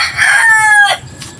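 A rooster crows loudly and close by in one drawn-out call lasting about a second, ending in a short trailing note.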